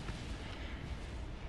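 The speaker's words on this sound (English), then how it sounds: "explosions." Explosions in the video game Kerbal Space Program make a dense, continuous rumble of booms and blasts that fills the whole short stretch with no talking.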